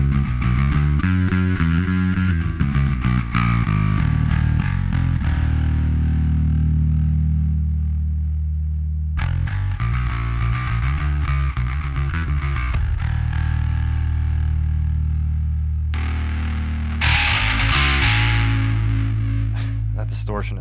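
Extreme distortion from the Aurora DSP Rhino and Mammoth effects: a loud, saturated, heavily compressed signal with a thick low end, playing in continuous phrases with brief cuts between them.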